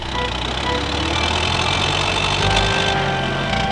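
A locomotive engine arrives on a railway line, heard as a steady, low rumbling drone with a slight swell midway, with no speech over it.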